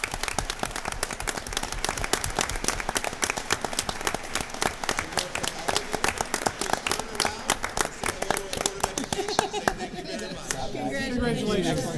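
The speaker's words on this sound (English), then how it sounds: "Let's give these guys a big giant round of applause." An audience applauds student athletes at a school board of education meeting, with dense, loud, rapid clapping that carries on for the whole stretch and thins slightly near the end amid some chatter.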